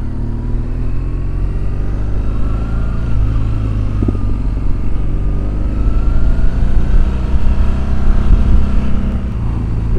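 A 2007 BMW R1200GS motorcycle is ridden, its engine droning steady and loud with low rumble and wind noise, revs rising slightly toward the end.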